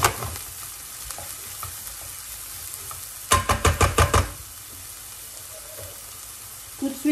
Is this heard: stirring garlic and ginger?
yes